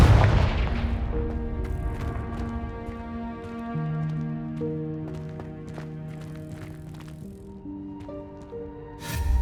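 A Confringo blasting spell goes off in Hogwarts Legacy: a loud, close burst that fades into sustained orchestral tones, then a second sharp blast right at the end.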